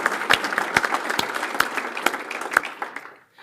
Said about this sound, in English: give yourself a round of applause as well.